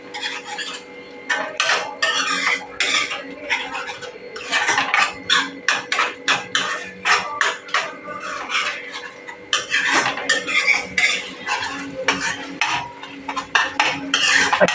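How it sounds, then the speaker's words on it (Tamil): Chicken with tomato sautéing in a pan for a curry, heard as a busy run of rhythmic metal spatula scrapes and clatters against the pan, close and fairly loud, with a light sizzle beneath. "பாருங்கள், சிக்கன் வந்து இது வதங்கிட்டு இருக்குது."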